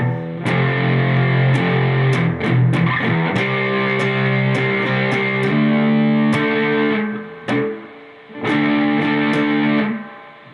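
Distorted electric guitar plays the chorus riff at a slow pace, loud and close, with sustained power chords and sharp pick attacks, a few brief pauses between phrases.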